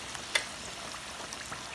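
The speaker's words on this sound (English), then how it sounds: "I've been frying these on really, really low because I want them crispy." Samosa flowers fry in oil over low heat with a steady, close sizzle and a brief sharper crackle early on.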